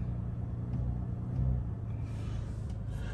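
An Audi RS5 engine settles into a steady idle after a cold-start rev, a low, even rumble with a slight swell partway through and no talking.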